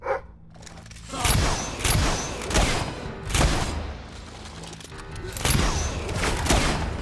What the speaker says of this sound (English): We're under fire! Keep your heads down, boys!